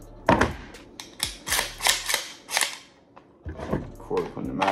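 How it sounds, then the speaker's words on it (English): An ARP rifle is cleared by hand. Its action is racked in a series of sharp, close metallic clacks and clicks, with quieter handling noises between them. "We gonna make sure that the weapon is clear."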